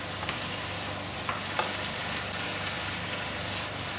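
Noodle ingredients with soy sauce stirred and fried in a pan make a dense, steady crackling sizzle that stays close and loud, broken by a few light scraping clicks.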